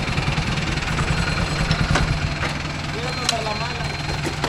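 A Mahindra Arjun Novo 605 DI tractor fitted with a rotavator idles in a coconut grove, a steady mid-pitched engine chug running throughout while people talk nearby.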